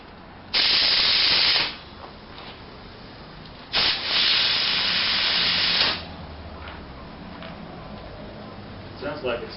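Air hisses sharply from a bicycle tire as it is pumped up, in two loud bursts of about a second and two seconds, followed by quieter background sound.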